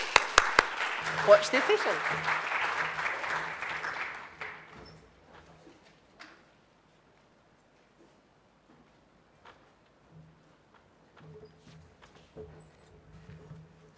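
An audience at a cystic fibrosis talk gives a warm round of clapping for the arriving speakers, which fades out after about four seconds into quiet rustling and a few spoken words.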